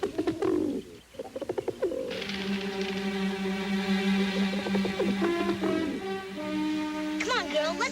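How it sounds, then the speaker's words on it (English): A pet pigeon coos outdoors in low, repeated throaty calls, with a voice speaking over part of it and other bird chirps close by. "That's Mr. Magico's pigeon."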